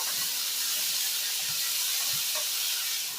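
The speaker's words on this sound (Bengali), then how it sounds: "লঙ্কাটাও কিন্তু দিয়ে দিলাম দিয়ে একটু ভালো করে ভেজে নেবো" Onions and chopped green chillies sizzle in a pan for lachha halwa, a steady close hiss of frying oil throughout with faint soft clinks underneath.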